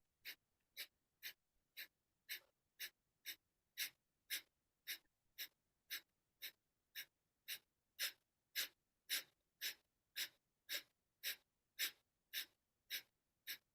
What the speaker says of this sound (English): You are just consciously exhaling little tufts of air.